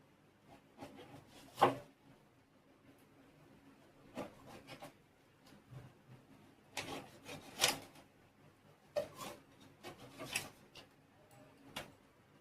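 Knife cutting through a soft, spongy gulab jamun cake, faint scattered rubbing and scraping strokes with a few light taps, close and quiet, no speech.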